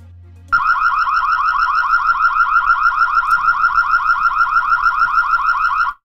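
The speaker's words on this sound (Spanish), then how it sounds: "Y también podemos prender la alarma." The alarm siren of a wireless wifi security camera starts abruptly and shrills close and loud, a rapidly pulsing electronic tone held unbroken for about five seconds before cutting off.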